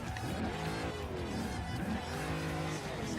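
A racing car drifts in Forza Horizon 2, engine droning with wavering pitch and a thin tire screech woven through it, steady and close for the whole stretch without voices.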